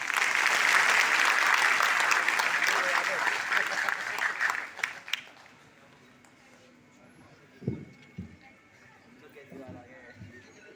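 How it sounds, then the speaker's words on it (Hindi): Applause from the audience at a street vendors' organization meeting in Delhi, a dense burst of clapping that fades after about five seconds, followed by scattered claps and faint background voices. "जोरदार ताली।"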